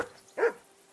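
Single dog bark in the video game Kingdom Come: Deliverance II, one short, fairly close bark in an otherwise quiet moment.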